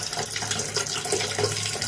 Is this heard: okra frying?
no